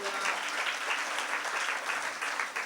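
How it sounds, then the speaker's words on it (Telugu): A church congregation claps in praise of God during a sermon, a dense, steady burst of many hands applauding together, loud and continuous for a few seconds with no talking over it. "చప్పట్లు కొట్టి దేవుని స్తుతించండి"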